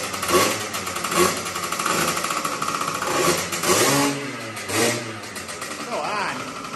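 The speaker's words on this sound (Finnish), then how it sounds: "Moottorin ääni." An engine revs in a motor workshop, with repeated loud surges rising and falling in a rough rhythm while people talk over it.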